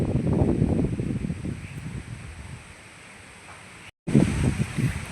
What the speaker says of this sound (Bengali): ভীষণ বাতাস, এদিকটা বেশি বাতাস।